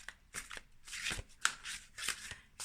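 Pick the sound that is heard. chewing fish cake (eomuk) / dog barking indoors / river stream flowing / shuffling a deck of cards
shuffling a deck of cards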